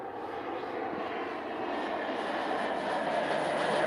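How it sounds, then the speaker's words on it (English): An airplane flies low overhead, its engine roar a steady broad rumble that swells louder toward the end, with no talking. "This plane is flying really fucking low."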